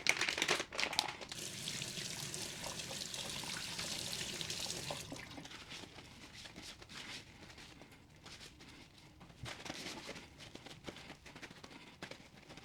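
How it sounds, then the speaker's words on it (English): Cold tap water runs over a raw pork loin roast in a kitchen sink, a steady hiss that is loudest over the first five seconds, then softer splashing and handling sounds with occasional knocks. "give it a rinse under cold tap water"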